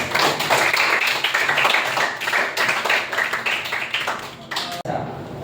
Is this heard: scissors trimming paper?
no